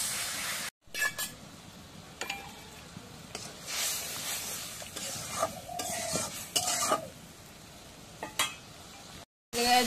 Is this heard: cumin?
yes